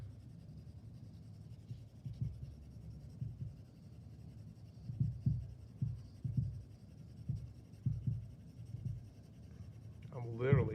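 Pencil cross-hatching on paper while shading a sphere: soft, steady scratchy strokes come in rhythmic bursts close to the mic, with quiet pauses between them.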